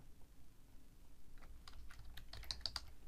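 A terminal command typed on a computer keyboard: a quick burst of soft, close key clicks building into a few sharper taps near the end, with no talking.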